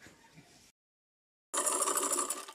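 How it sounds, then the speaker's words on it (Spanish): A sewing machine stitches sheer, transparent curtain fabric: a short whirring run, a brief silent pause, then a louder, steady mechanical hum from close by, with no talking. "Pues aquí estoy cosiendo esta que está muy transparente porque esta se la quiero pegar a la otra cortina"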